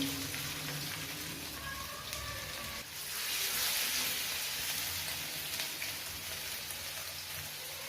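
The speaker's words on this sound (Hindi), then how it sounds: "अब हम इनको फ्राई कर लेते हैं।" Chapli kebabs made from raw minced meat sizzle steadily in hot oil in a pan, a constant dense crackle that swells slightly partway through, with no talking.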